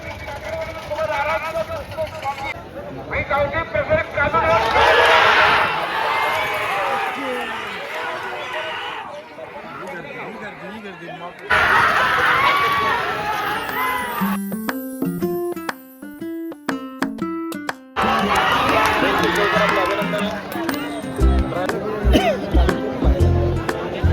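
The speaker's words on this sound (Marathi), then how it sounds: "ही बघा किती गर्दी, ही बघा तुफानशी गर्दी आहे" A large crowd of all ages gathers at a bullock cart race ground, producing a dense, continuous roar of voices and commotion, with a stretch of loud tonal music or horns cutting through midway.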